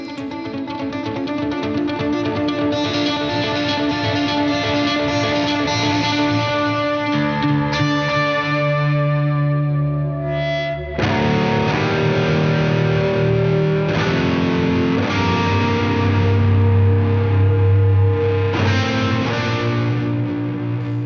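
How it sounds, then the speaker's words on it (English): UAFX tape echo guitar pedal with the feedback turned up, an electric guitar ringing out through swelling, oscillating repeats that build and smear together, loud and continuous with no talking. "with the tape echo, as you start turning that up, you get some really awesome fluctuating kind of oscillating repeats"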